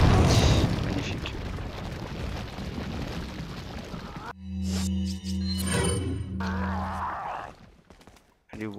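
A grenade detonates in Resident Evil 4 with a heavy booming blast and rumbling tail, followed by game sounds and a low hum, with faint voices early on.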